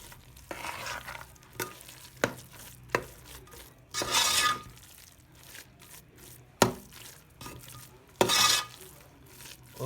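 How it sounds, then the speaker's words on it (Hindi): Dry-roasted nuts being stirred into gajar halwa (carrot halwa) in a pan, giving a run of scraping, clattering stirs with soft sizzling between them, close and fairly loud, with no talking. "अब हम इनको इसके बीच में शामिल करेंगे और इनको इसमें अच्छे तरीके से हम मिक्स कर लेंगे"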